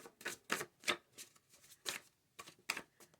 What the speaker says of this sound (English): I'm gonna shuffle these again.